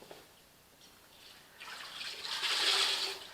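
Water dampens a horse's mane with soft wet trickling and sponge sounds that start faint and build to a brighter, closer swish toward the end, with no talk.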